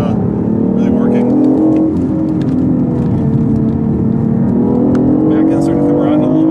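A 2015 BMW i8 hybrid driven hard on a racetrack hums with a steady engine and electric whir that swells and dips as it is pushed through corners, heard from inside the cabin while people talk over it.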